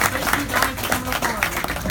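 Convention audience at a Power Rangers Megaforce panel applauding, a dense continuous wash of clapping from a crowd, steady and fairly loud across the whole moment with cheering voices mixed in.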